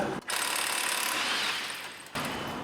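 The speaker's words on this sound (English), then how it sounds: "undo the nut, and I loosen the drive shaft" Peugeot 407 drive shaft nut (35mm) being loosened with a ratchet, giving a close, continuous rapid clicking whir that starts after a brief pause and stops abruptly near the end, with no talking.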